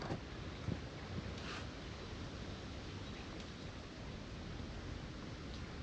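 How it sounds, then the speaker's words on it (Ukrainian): Steady broadband wind rush with no pauses over a fishing spot in the Dnipro delta, a few faint knocks and bumps mixed in, continuous and fairly close to the microphone. "Пішов вітер, вальнуло трошки сильніше течення."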